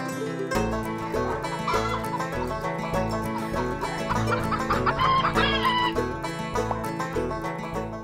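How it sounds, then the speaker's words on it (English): A cartoon farm chicken clucking and crowing, bright and close, over cheerful children's music with no talking. "Hello, Clucky Chicken."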